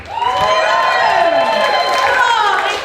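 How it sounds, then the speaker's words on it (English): A comedy club audience at a stand-up show cheers and whoops loudly with clapping mixed in, a continuous roar of voices that holds steady for the full few seconds. "Give me a big round of applause and a cheer."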